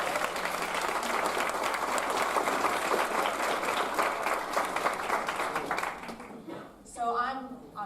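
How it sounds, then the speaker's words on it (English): Audience at an alumni forum gives a sustained round of applause, dense clapping at moderate level that fades after several seconds before a person begins speaking at the end. "Can we all give India a round of applause?"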